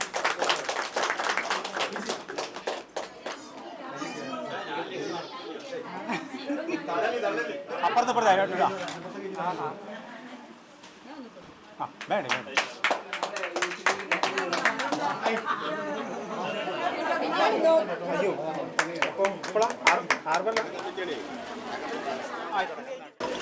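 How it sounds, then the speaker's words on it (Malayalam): Applause and chatter from attendees at a block panchayat meeting in Tanur, where a new president takes charge; bursts of clapping come and go in waves over steady crowd talk, loud and close, fading briefly midway before resuming. "കൈയടിക്ക്"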